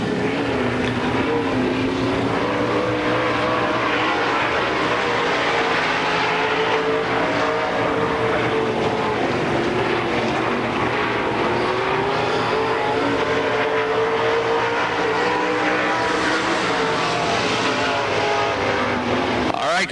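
STARS late model race cars lapping the track at the 2002 Pittsburgher 100, a loud, continuous engine roar that rises and falls steadily as the pack circles, with no break for the whole stretch.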